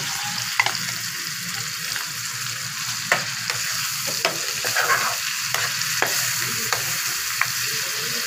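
Mustard greens for sarson ka saag stirred and sizzling in a hot pan, a steady fry with repeated scraping strokes of a spoon every second or so, close up.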